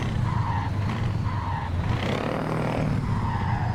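A truck driven in a racing video game with a steering wheel: continuous engine drone with repeated tire squeals and skids rising and falling, loud and steady, with no speech.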